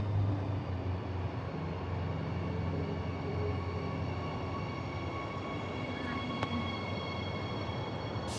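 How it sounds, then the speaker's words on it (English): A steady low rumble of a suburban train rolling into a station at Bayswater, broad and continuous, with a faint high whine and one brief click near the end. "here's our train back to Bayswater"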